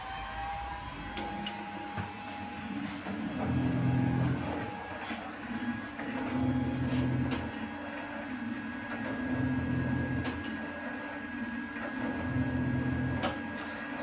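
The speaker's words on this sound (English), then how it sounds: "Let's just kick it off and we'll show you this little beastie running." A small secondhand metalworking machine with a flywheel runs at a steady pace, a soft mechanical tick over a low hum, its cycles swelling and easing in a regular rhythm of about three seconds, moderately close and fairly quiet.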